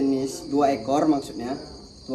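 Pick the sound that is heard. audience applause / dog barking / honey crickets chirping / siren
honey crickets chirping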